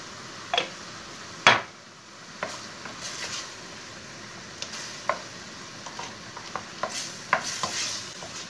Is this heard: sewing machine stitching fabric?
no